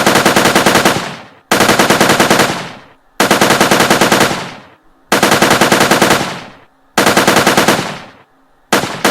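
Player weapon in a Unity3D video game fires five loud rapid automatic bursts, each a dense rattling run of shots that cuts off into brief silence before the next, with a sixth burst starting at the end.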